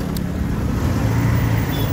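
Dense road traffic on Ring Road in Ibadan, a continuous rumble of cars and engines under road reconstruction, steady and fairly loud with no voices.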